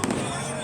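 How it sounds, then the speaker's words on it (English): Fireworks burst at a beach show, one sharp loud blast at the start trailing into a rumbling wash of noise. "They were setting off the fireworks there."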